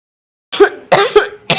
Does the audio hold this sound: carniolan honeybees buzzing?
no